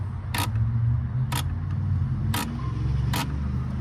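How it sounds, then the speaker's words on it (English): A ratchet tightens a fuel filter on a 2018 Dodge Ram 2500, making four sharp, evenly spaced clicks about a second apart over a low, steady rumble. "so I'm just gonna go ahead and put my ratchet on here"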